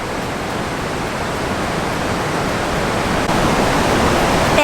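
A steady, broadband roar of water pouring over the J-shaped Horseshoe Falls weir on the River Dee, where river water is diverted toward the Llangollen Canal; loud and continuous with no voices.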